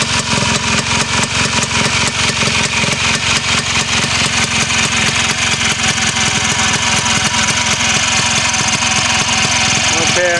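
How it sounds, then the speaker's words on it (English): A 1967 Sachs 280A snowmobile engine, rebuilt with a new bearing, gaskets and seals, runs steadily close by with a loud, rapid, even two-stroke putter that holds throughout, and a voice speaks briefly over it. "I wanted to demonstrate that this is a very good running engine"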